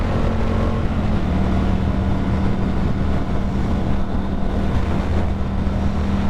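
Triumph FTR 1200 motorcycle engine droning steadily while riding, a continuous low hum mixed with heavy wind rush at the microphone, no talking.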